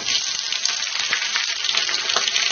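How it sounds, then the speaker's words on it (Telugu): Sliced onions fry in tempering oil with curry leaves, on the way to a brinjal fry; a dense, continuous hiss and sizzle sits close and loud, with no pauses. "ఈ ఉల్లిపాయలు బంగారు రంగు వచ్చేంత వరకు వేయించుకోవాలి."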